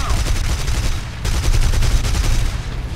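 Rapid, loud bursts of heavy cannon fire from an American P-39 fighter's 37 mm cannon in War Thunder, with sustained booming shots rolling continuously for a few seconds and no voice over them.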